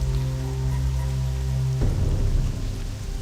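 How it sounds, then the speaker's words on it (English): Steady rain pours across the Wetlands zone of World of Warcraft Classic as a loud, continuous wash of noise. A low droning tone runs underneath and fades partway through, leaving only the hiss of rainfall. "Today in the wetlands, it's extra wet because it has rained the entire time we've been here."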